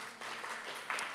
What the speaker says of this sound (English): And that's applause for God